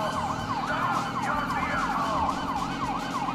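A police siren in the video game Grand Theft Auto V wails, cycling up and down steadily over a rumbling engine, loud and continuous.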